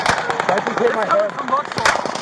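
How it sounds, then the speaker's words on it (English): A rapid burst of gunshots cracks out in a crowded outdoor setting, sharp repeated pops mixed with shouting voices and commotion over about two seconds. "There's gunshots right here!"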